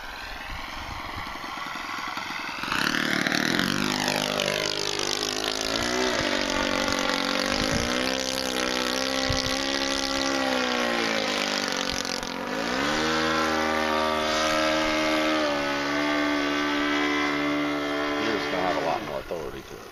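OS 120 four-stroke engine on a Prox 260 model helicopter, a loud buzzing drone whose pitch rises, dips and sweeps as the throttle changes, with rotor whir layered over it and brief voices underneath.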